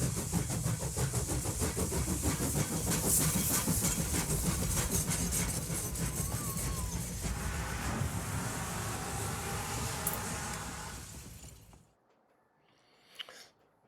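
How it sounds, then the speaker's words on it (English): A heritage train running beside the road on a charity day makes a loud, steady rumbling roar of engine and wheels that carries on for about twelve seconds, then cuts out abruptly to near quiet. "this day they were actually running the train for a charity event"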